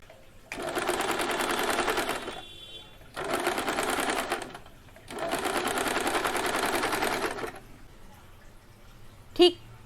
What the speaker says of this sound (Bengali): এরকমভাবে মুড়িয়ে সেলাই করব